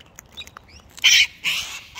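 A pet cockatoo lets out two loud, harsh screeches close by, after a stretch of faint clicks and small chirps.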